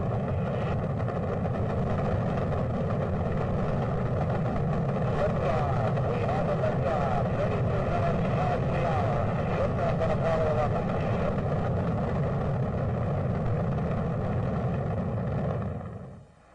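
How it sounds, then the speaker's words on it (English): Rocket engines roar at liftoff in a loud, continuous, dense rumble that holds steady for many seconds before cutting off abruptly, with voices faintly audible beneath it. "2, 1, 0, all engine running. Liftoff."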